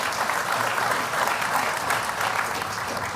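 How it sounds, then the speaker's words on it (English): Steady, loud applause from a large audience at a campaign rally on an economic opportunity tour, dense clapping that holds evenly for about three seconds with no speech on top. "Yeah, we can clap to that"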